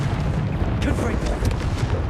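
Confringo blasting spell going off in Hogwarts Legacy combat, heard as dense rumbling booms and crackling bursts over a steady battle din, while a voice speaks over it.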